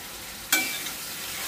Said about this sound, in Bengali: আবার একটু এই মশলাটা দিয়ে একটু ভালো করে কষিয়ে নিচ্ছি